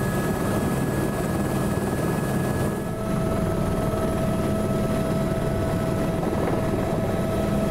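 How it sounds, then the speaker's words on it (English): A helicopter lifts off from a glacier landing above the Gatineau Channel in Alaska, its rotor and engine roaring loud and close in a continuous, unbroken drone with a faint steady whine above. "We're the second chopper off and we swing away towards the silted up arm of the Gatineau Channel"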